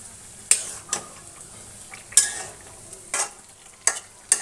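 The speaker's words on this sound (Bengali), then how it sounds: "এবার খুব হালকা হাতে এটা একটু উপর নিচ করে দেবো।" Cauliflower, katla fish and new potato curry turned gently in a pan, with soft sizzling beneath a few distinct scraping stirs of a utensil against the pan at irregular intervals, close up and without speech.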